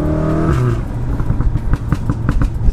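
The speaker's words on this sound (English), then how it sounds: "Turbo's just screaming." A stock turbocharged car engine revs up to about 4,000 rpm, a loud, close, rising whine that settles into a raspy, pulsing burble with crackling pops, heard alone without talk.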